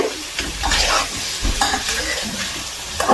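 Radish pieces sizzling and being stirred in a pan of fish curry, a steady frying hiss with scraping stir strokes repeating throughout, close and fairly loud with no talk.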